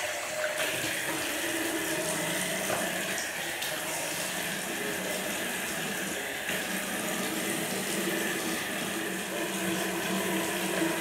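Tap water runs steadily into a sink while facial product is rinsed off, a continuous close hiss and splash that stays level throughout.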